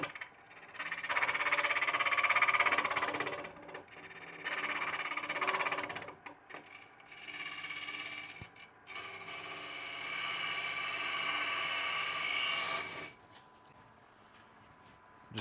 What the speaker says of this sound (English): I'm going to use my longer handled, deeper scraper.